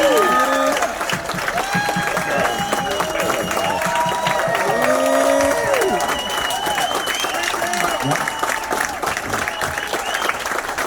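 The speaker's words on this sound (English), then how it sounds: "can we just give them a round of applause for their dedication to music?" Audience applause breaks out on a cruise, steady clapping sustained for several seconds with a brief sung or whistled tone drifting over it.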